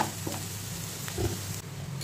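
Onions frying in a pan on a low flame, with a soft steady sizzle and a few faint stirring scrapes, quiet and close, with no talking.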